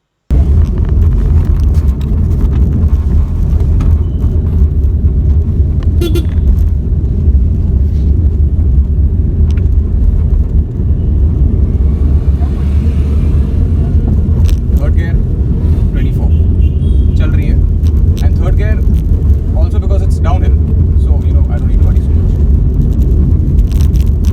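A Tata Nano runs downhill with its engine droning steadily inside the cabin and a shift into third gear, someone talking over the continuous hum.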